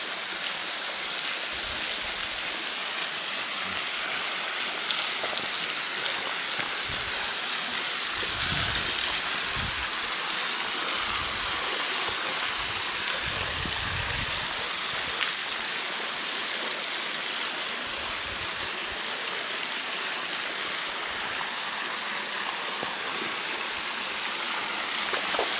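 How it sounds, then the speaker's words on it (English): Waterfall at least 40 feet tall in Red River Gorge after plenty of rain, pouring in a steady, dense roar of rushing water that is heard close up and unbroken. "So that waterfall is at least 40 feet."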